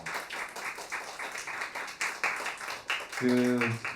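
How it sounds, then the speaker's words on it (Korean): Audience applause at a traditional Korean music concert, a steady patter of many hands clapping at moderate volume throughout, with a brief tonal instrument or sustained note entering near the end. "다시 한번 큰 뜨거운 박수 부탁드리겠습니다."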